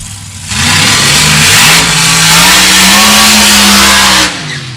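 A supercharged top alcohol dragster engine revs hard on a drag strip during qualifying, a loud, close, continuous roar that climbs in pitch and holds for several seconds before cutting off.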